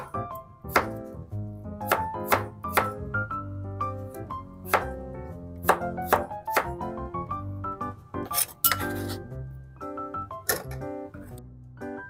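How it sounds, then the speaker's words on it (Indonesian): A knife chopping pumpkin into small pieces on a cutting board, repeated sharp thunks at an uneven pace, close and clear, over soft background music with no talk. "Ini potong-potong kecil dulu aja."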